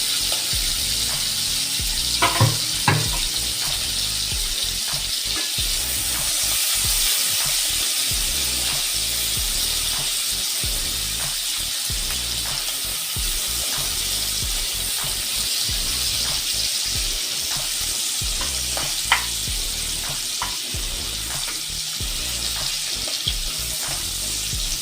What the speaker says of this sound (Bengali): এবার আমি চিংড়ি মাছটা ভেজে নেবো।